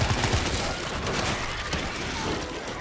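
Rapid, dense gunfire rattles continuously in the zombie shooter World War Z, a busy volley of overlapping shots at moderate loudness with no clear pauses.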